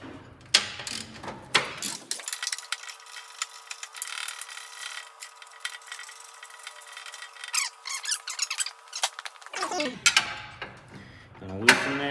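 Ratchet turning a 19 mm bolt that holds spring tension near a Craftsman/Troy-Bilt snowblower fuel tank, rapid close clicking with some scraping metal, heard in bursts at the start and end, filtered in the middle.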